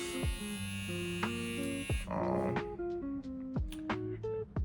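Supreme Trimmer rechargeable hair clippers run with a steady, close electric buzz and hum at roughly 7,500 RPM, its drone shifting in pitch as the blades are handled, with a few sharp clicks along the way.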